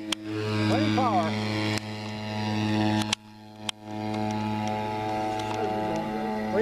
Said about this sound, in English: you got those engines synced really nice